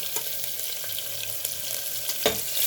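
Crushed garlic sizzles in hot oil alongside dried red chillies as a bottle gourd fry is started, a steady close frying hiss with a few soft stirring scrapes and no talking.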